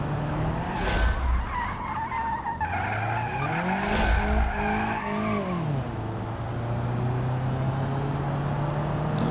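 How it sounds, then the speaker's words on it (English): Tires squeal through a long drift of a car in the BeamNG racing game, rising and bending in pitch with two sharp bursts of skid over a steady engine drone, loud and close with no talking. "There's a bit of a drift there that's kind of crazy."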